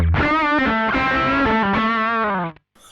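A distorted electric guitar lead through a Koch '63 OD all-tube overdrive pedal plays sustained, saturated, mid-focused notes with bright harmonics, loud and close, ending with a quick drop to near silence.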